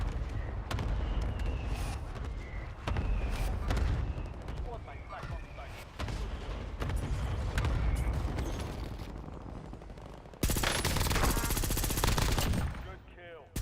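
Rapid automatic rifle fire and bursts of gunshots from an AK-style weapon in a multiplayer war shooter game, dense and loud throughout, with a louder burst near the end, mixed under game chatter and voices.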